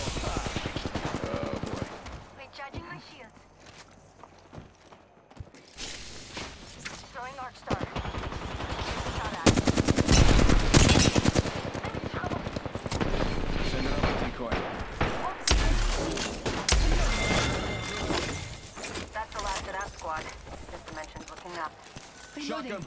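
Rapid gunfire from the battle royale game Apex Legends, including Kraber sniper shots, bursts of shots with heavy impact noise under steady, close player talk.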